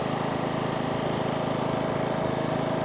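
A conventional non-inverter generator runs steadily nearby, its engine a constant rough drone with an even pulsing hum, charging a battery, no voices present.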